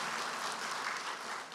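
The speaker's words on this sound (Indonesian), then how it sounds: "Kita beri tepuk tangan untuk Tuhan kita yang baik." A congregation at a church worship service applauds God, a steady, even wash of clapping that holds throughout and eases slightly at the close.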